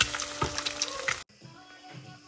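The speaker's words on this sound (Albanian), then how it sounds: "Të skuqen mirë në gjithë anët." Eggs sizzle in a frying pan with bright crackling and a couple of utensil knocks, then the frying drops abruptly to a much quieter, duller hiss.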